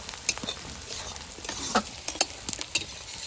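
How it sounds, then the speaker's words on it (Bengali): Onions frying in oil, heard as a steady close sizzle with intermittent scraping and clicking of a spatula stirring the pan, no voices. "পেঁয়াজ থেকে তেল ছেড়ে দিয়েছে, পেঁয়াজটা সুন্দর ভাজা ভাজা হয়ে গেছে"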